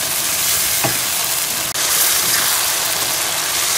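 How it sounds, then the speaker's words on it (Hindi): Chicken frying in a pan over high heat while its masala browns and ghee begins to separate, giving a steady, loud broadband sizzle throughout with one brief clatter of stirring near the middle. "अब तेज़ आंच करके मैं चिकन को जो है वो अच्छे तरीके से भून लूँगी।"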